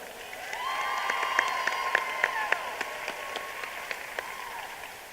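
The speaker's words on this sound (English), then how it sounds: "Let's give one more round of applause to our generous sponsor" Steady applause from a crowd, sustained clapping across the whole stretch with a few sharp louder claps, fairly even in level.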